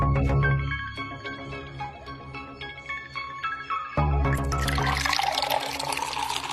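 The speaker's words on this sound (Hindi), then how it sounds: "पानी कहाँ से आ रहा है?" Water pours loudly and steadily in a comedy sketch scene, a broad rushing wash that swells and takes over in the second half, mixed with a steady tonal background.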